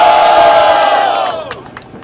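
Crowd at a Brazilian rap battle semi-final cheering and shouting loudly in a dense, sustained roar that fades toward the end.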